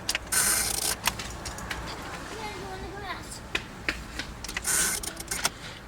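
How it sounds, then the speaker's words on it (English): A faint high electrical whine buzzes in short bursts near a car, mixed with mechanical clicks and rattles, and a person speaks briefly. "it kind of sounds like an electrical, like whining, like zzz, zzz"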